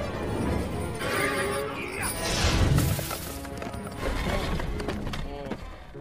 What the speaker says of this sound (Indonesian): para kuda milik Pitch Black telah menculik para peri gigi